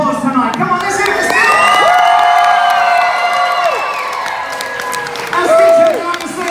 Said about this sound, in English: how about we give him the biggest round of applause tonight?